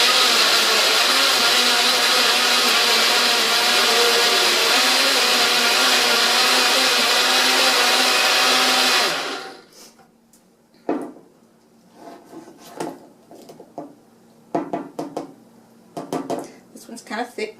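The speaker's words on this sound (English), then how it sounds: "And then we blend. We pulverize." Kitchen blender pulverizing a breakfast smoothie roars loudly and steadily for about nine seconds, then cuts off, followed by quieter clinks and handling noises with a person speaking.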